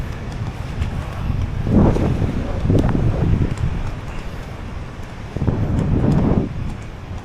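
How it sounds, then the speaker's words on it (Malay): Strong wind buffets the microphone while parasailing high above Langkawi, a loud continuous roar that swells in gusts and fills the whole stretch, with no clear talk. "angin kuat siut"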